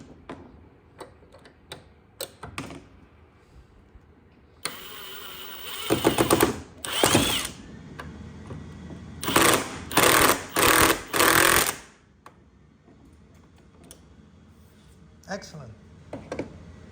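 Screws driven into a wooden plant stand with a power drill, heard as several short buzzing bursts in a row, loud and close, separated by quieter handling clatter and light background sounds.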